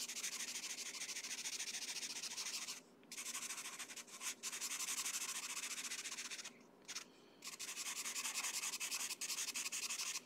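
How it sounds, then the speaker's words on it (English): Pastel pencils scratch and rub across the paper of a colouring book in close, quiet strokes, a continuous gritty hiss broken by a few short pauses as the pencil lifts, with no talking. "Because it's pastel pencils, they make a noise."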